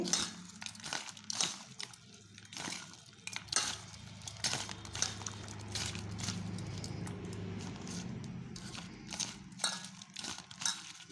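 Chanachur mixed with mustard oil and black pepper powder in a bowl, giving repeated crinkly rustles and sharp clinks of a spoon against the bowl in an irregular rhythm, close and fairly loud with no talk.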